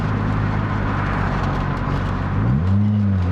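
A 2007 Lotus Exige S engine drones loudly from inside the car, a steady low hum that climbs in pitch near the end as it accelerates, with no voices.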